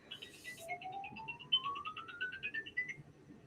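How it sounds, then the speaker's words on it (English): Telephone ringing as a faint electronic ringtone, a fast warbling trill of repeated high pulses with a slowly rising tone, steady throughout. "It's like, answer the bloody phone already."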